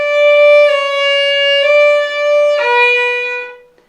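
A bowed violin plays four sustained notes in a short stepwise pattern, clear and close, each note held about a second before fading out.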